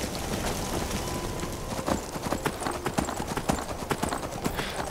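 Horse hooves clip-clop at a quick, uneven rhythm during a ride in the video game Skyrim, close and clear over a low rushing background.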